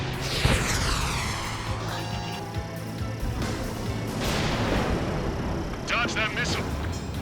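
Missile launches, explosions and jet roar from the combat flight game Ace Combat 7 with an F-14, a dense, loud wash of rumbling blasts and engine noise with whistling sweeps, while radio voices call out over the action.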